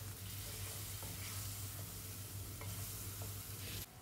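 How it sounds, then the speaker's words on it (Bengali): A spoon stirs yogurt curry in a pan over a low flame, producing a quiet, steady sizzle with occasional soft scraping taps against the pan, all at low volume. "আবার একটু নাড়িয়ে নিচ্ছি"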